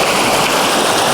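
Steady rushing water of a stream in the Bosnian valley of the pyramids, a continuous broadband flow that is fairly loud and heard alone without any voices.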